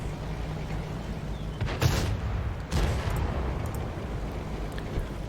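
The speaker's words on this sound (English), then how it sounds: "So we're gonna see if we can get some shots in here" Tank cannon shots in World of Tanks on console, a Tiger II on the Pilsen map, come as two deep booming blasts over a low rumbling engine drone, fairly distant and muffled, with no talk.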